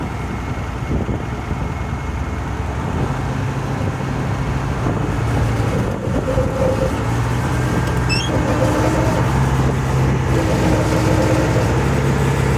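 A Ford L8000 truck crane's engine runs loud and close under throttle, a steady heavy rumble whose pitch climbs and holds as it revs, with faint squeaks from the crane.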